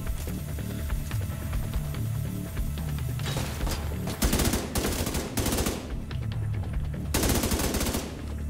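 Sustained machine gun fire from a turret in The Division 2, loud and continuous with heavier bursts swelling in and out over a constant rumble of battle noise.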